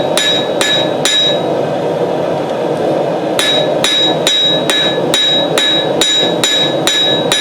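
A hammer forges a knife blade on an anvil, striking in a steady series of sharp ringing metallic blows, close and loud, with a brief pause before the strikes resume.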